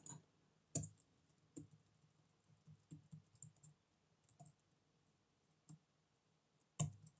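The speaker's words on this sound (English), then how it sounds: "you type in the following" Scattered keystrokes on a computer keyboard while entering OpenCV image flip and rotate code, a few sharp clicks spaced irregularly with soft clusters between, quiet and close with no voices.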